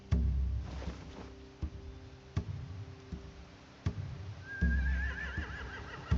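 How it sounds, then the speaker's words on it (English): A horse whinnies with a shrill, wavering call near the end, over a low steady rumble and occasional sharp knocks, in the video game The Walking Dead: The Final Season. "They have horses."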